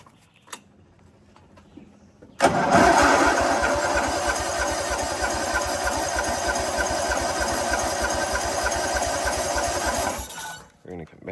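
After a choke-assisted pull, a lawn mower engine fires and settles into a loud, steady idle that runs close up for several seconds before cutting out, with little else heard.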